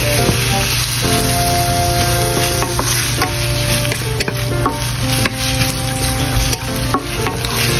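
Meat sizzles steadily in a hot pan with onion and garlic, loud and close, while a utensil stirs and scrapes through it with scattered knocks against the pan.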